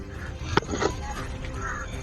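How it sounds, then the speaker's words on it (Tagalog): Loud birds call out in a brief burst of harsh, crow-like cawing over a noisy outdoor background, with a sharp call near the middle. "sobrang ingay ng ibon"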